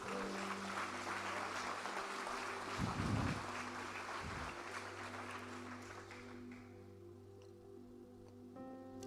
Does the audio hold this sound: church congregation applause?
yes